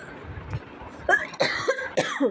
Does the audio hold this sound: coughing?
yes